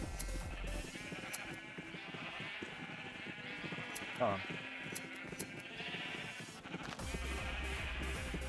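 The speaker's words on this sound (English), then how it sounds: "I was wondering why I could hear a load of sheep." Minecraft sheep bleat repeatedly through game noise and background music, with a brief spoken word over them.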